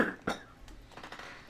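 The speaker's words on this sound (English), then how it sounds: "he's coughing again" A radio host coughs: two or three short, harsh bursts close to the microphone, followed by faint clatter and breathy noise.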